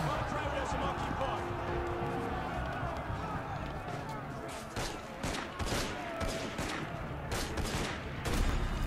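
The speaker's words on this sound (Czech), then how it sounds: "A zase na mě střílí" Repeated gunshots in Assassin's Creed Unity gameplay, sharp bursts popping every second or so over a dense, steady wash of game noise and ambience, with a voice talking throughout.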